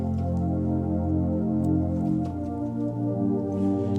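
Keyboard synth pad holding sustained chords, warm layered tones that ring steadily without a break and shift smoothly from one chord to the next, played alone.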